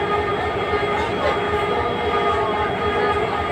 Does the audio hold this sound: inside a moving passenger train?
yes